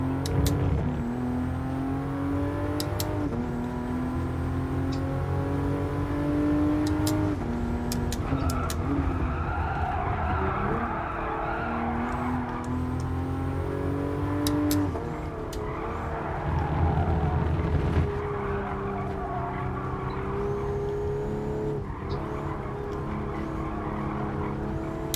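A race car on track in Gran Turismo Sport on PS4, engine revving and shifting continuously with tyre squeal and skidding through corners, loud and close without any talk.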